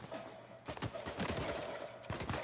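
In Uncharted 4, dense bursts of gunfire crack repeatedly over a steady in-game background hum, loud and close, with sniper shots mixed into the battle.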